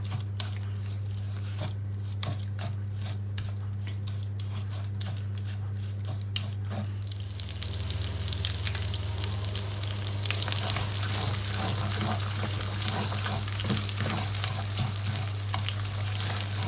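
Thai red curry paste goes into oil that is not yet hot, for a chicken stir-fry with dill. A quiet crackle grows into a dense, steady sizzle midway, over a low constant hum.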